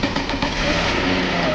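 A VW VR6 engine cranks and catches after a jump-start, settling into a steady, fairly loud mid-pitched running note close by, with no talk.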